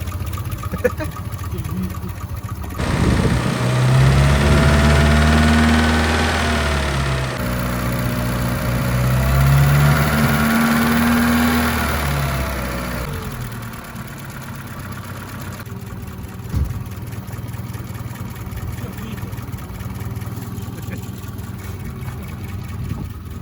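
A Volga GAZ-24 car engine idles steadily at low revs with a deep, even rumble. It rises and falls slightly in revs, and people talk over it.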